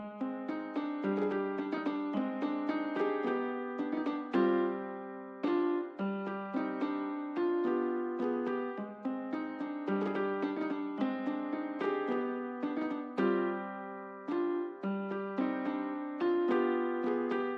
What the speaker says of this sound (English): the not recorded piano would have sounded like this